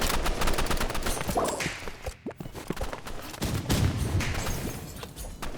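Rapid bursts of gunfire crackle in a Roblox shooter, with dense repeated shots nearly continuous and loud, easing briefly in the middle before resuming, with little talk.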